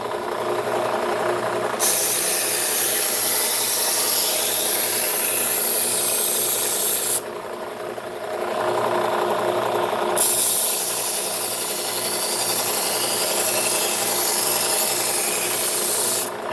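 A butcher knife is sharpened against a stone or rasp-like surface, loud close rhythmic rubbing and grinding strokes in long sustained passes, with one short pause between runs.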